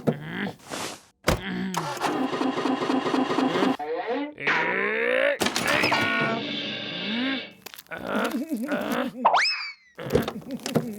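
A cartoon car that has broken down is cranked to start again: springy boing-like sputters, whirring rises and wobbling mechanical tones come in separate bursts with short gaps between them, loud and close, with a few voice-like grunts.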